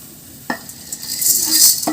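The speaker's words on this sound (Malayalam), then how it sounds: "ഒരു ടീസ്പൂൺ അരി ഒരു അര ടീസ്പൂൺ മല്ലി ഇത് രണ്ടും കൂടി വറുത്തെടുക്കട്ടെ" Rice and coriander seeds being dry-roasted in a pan, with a few sharp scraping and stirring clinks against the metal over a faint crackle, up close.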